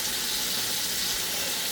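Food frying in a pan during Mediterranean home cooking, a dense even sizzle with bright hiss, steady and close, with no voices over it.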